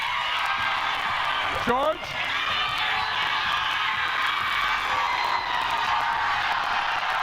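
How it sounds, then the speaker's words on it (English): A live audience at a quiz-style stage event cheers and whoops in a steady, loud wash of crowd noise, with a host's voice briefly cutting through near the start. "But you can still cheer."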